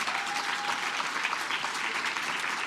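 Steady audience applause fills an awards ceremony hall, a dense even wash of clapping from a crowd at moderate distance with no pause across its length.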